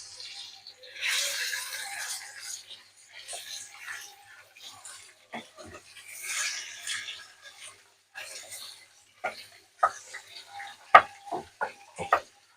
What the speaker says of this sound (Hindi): तो अब चम्मच चला के इसे अच्छा सा मिक्स करके फ्राई करती हूँ